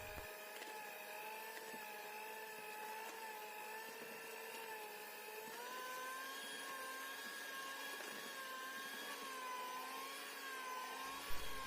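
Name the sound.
stand mixer kneading donut dough for about 12 minutes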